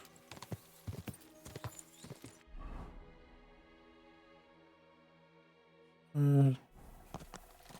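A horse's hooves clop in Kingdom Come: Deliverance II, with scattered hoof hits at the start, a steady held tone through the middle, a loud short burst like a snort or whinny, and hoofbeats again at the end.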